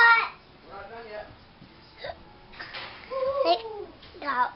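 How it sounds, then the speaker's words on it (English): A child hiccups during a cheese party, giving a few short, sharp hiccups spread among soft childish vocal sounds, close and fairly quiet. "do you have the hiccups?"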